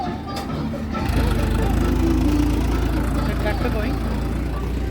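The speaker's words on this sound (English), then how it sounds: "So you can see this tractor going." A tractor drives past on a road near a temple, a steady low engine rumble that swells slightly and holds at moderate loudness.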